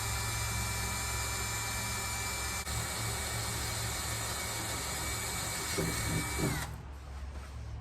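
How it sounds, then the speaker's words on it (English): A steady, loud power drill whines continuously, biting into metal on a 1957 Harley-Davidson Servi-Car, then cuts off abruptly near the end. "So now let's drill this."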